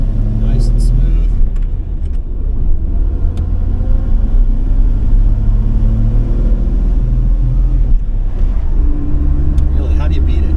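A 1967 Plymouth Valiant 100 with a three-on-the-tree manual gearbox cruises along, its engine a steady low rumble throughout with road noise, while someone talks over it.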